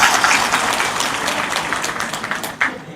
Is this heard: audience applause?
yes